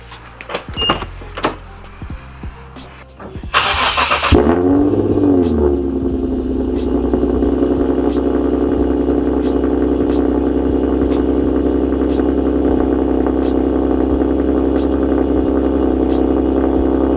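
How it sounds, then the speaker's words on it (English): A Nissan G37 sedan with Flowmaster Flow FX resonators cranks on a cold start and fires up with a loud exhaust roar that flares, then settles into a loud, rumbling idle that continues steadily. "let's get one last cold start with this exhaust setup, and it's loud"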